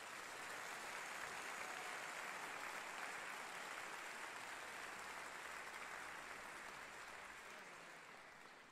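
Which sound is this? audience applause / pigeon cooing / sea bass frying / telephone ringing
audience applause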